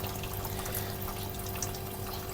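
Water poured into a container prepared for keeping and breeding fish, a steady, close rushing flow with no pauses and no talking.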